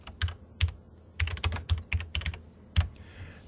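Typing an application name on a computer keyboard: a dozen or so irregular key clicks in quick bursts, close and clear, with no talk.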